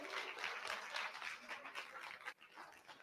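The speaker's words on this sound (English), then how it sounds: "Please give them a round of applause." Faint applause from the audience at the Digital Youth Festival Africa 2025, a soft, continuous patter of hands that drops away sharply near the end.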